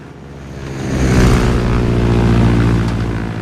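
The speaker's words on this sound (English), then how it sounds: "One of my all-time favorites is the legendary Stearman biplane." A Stearman propeller biplane flies close by, its loud, throbbing engine and propeller drone swelling, then holding steady.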